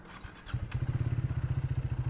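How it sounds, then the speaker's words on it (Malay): A Triumph Speed 400 single-cylinder motorcycle engine starts up and runs with a fast, steady thumping pulse, close by. "bunyi dia ni dia single cylinder"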